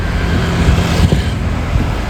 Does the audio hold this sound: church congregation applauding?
no